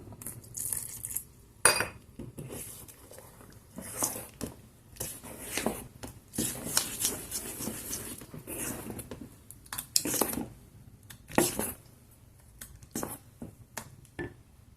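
Sorghum idli batter is mixed with salt and soda in a bowl, heard as repeated clinks and scrapes of a spoon against the bowl in an irregular rhythm, close and moderately loud, with no talking.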